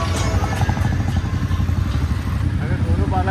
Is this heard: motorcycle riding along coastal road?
yes